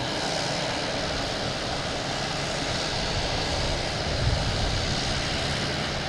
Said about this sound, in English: This is American Airlines and E-175 coming in from LaGuardia.